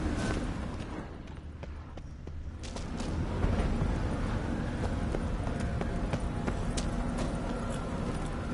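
Hoofbeats of Roach, a horse galloping in the Witcher 3 video game, pound in a quick continuous rhythm, close and moderately loud, growing fuller partway through against a rumbling ground-level background.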